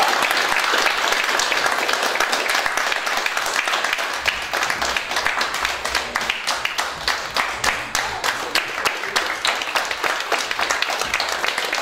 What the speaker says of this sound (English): I'd like you all to have maybe a good round of applause to our veteran, Mr. Phil Doddridge